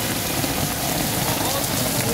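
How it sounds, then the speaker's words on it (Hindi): Heavy rain pours down on an open market square in Lahore, a dense, steady roar of drops beating on surfaces, loud and continuous throughout with no break. "बहुत ज़्यादा तेज़ बारिश है जी"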